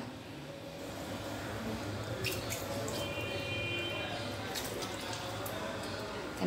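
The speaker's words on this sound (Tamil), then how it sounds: "தண்ணி தெளிச்சுட்டேன்." Water sprinkled by hand over sweet adai dough made with jaggery and cardamom, heard as soft, scattered drips and splashes running steadily at close range against a faint background hum.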